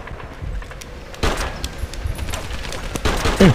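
Scattered gunshots in the PSP war shooter Medal of Honor Heroes 2, sharp cracks at irregular intervals with one heavier burst near the middle, mixed with clatter and background game noise.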